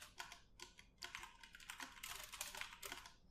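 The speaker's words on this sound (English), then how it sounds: "you're going to type the commit message that you want" A commit message tapped out on a computer keyboard: quick, quiet clusters of key clicks in an uneven rhythm, close and faint, with no talking.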